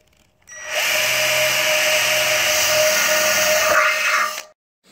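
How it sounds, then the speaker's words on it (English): A power drill drilling holes whirs loudly and steadily for several seconds, starting abruptly and cutting off just as sharply, with no talking. "So the next thing I'm going to do is go ahead and drill holes."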